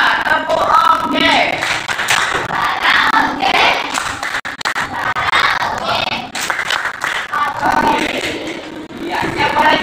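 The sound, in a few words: class doing 'tepuk oke' clapping chant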